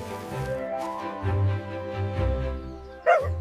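A cartoon dog gives a couple of short, voiced barks inside a cheerful children's gardening song, sounding tuneful and close over a bright musical backing.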